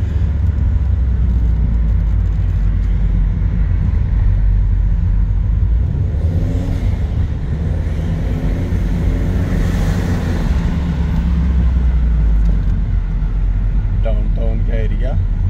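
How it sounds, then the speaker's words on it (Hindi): Car engine and exhaust droning loudly and steadily while driving through downtown Dubai, a constant low rumble with swells as the car speeds up, under people talking inside the car. "अच्छा एग्जॉस्ट लगा है ना इस गाड़ी"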